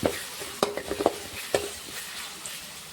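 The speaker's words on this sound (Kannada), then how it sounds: "ಈಗ ಈರುಳ್ಳಿ ಹಾಕೊಂಡಿದ್ರು ಈರುಳ್ಳಿ ಕಲರ ಒಂದು ಸ್ವಲ್ಪ ಚೇಂಜ್ ಆಗೋ ತನಕ ಫ್ರೈ ಮಾಡ್ಕೊಳ್ಳೋಣ" Chopped onions fry in hot oil while a spoon stirs them in a pan, with a steady soft sizzle under a few clinks and scrapes of the stirring spoon, close and alone.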